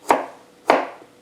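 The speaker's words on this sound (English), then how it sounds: "Garlic clove. Just gonna chop these up." Two sharp knife chops through garlic cloves on a cutting board, about half a second apart, close and crisp, each with a short woody knock, and no voices.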